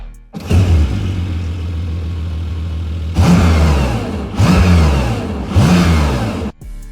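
A Porsche 911 Turbo S Cabriolet with a 3.6-liter boxer engine and titanium exhaust drones loudly, then snaps through three sharp, throaty revs in quick succession before cutting off.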